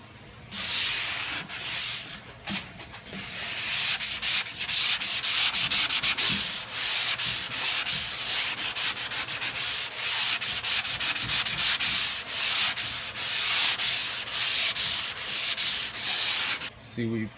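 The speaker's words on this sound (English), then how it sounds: "we're not just sanding in here, we're blocking it out as we go across the whole thing" An auto body panel is block sanded with 180-grit paper in steady back-and-forth strokes, a rhythmic, close scratching rasp that keeps going without pause and with no talking.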